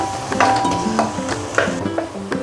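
A spoon stirs chicken curry with salt in a pan cooked without oil, giving repeated scraping and clinking strokes about every half second over a faint sizzle, close and clear, with background music playing.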